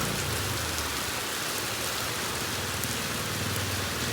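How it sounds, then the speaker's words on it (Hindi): Heavy rain pours down in a village, a dense, loud, unbroken roar of drops hitting surfaces. "बारिश बहुत ज़्यादा हो रही है"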